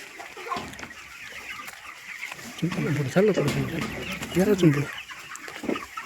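Hens cluck and chatter inside a poultry shed, a busy flock sound with scattered calls rising in the middle, while someone talks over it.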